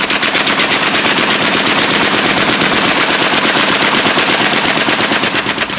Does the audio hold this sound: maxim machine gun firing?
yes